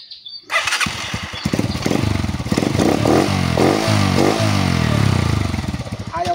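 A cheap toy motorcycle's small motor starts up and runs continuously with a buzzy, sputtering drone, rising and wavering in pitch across the clip, loud and close throughout.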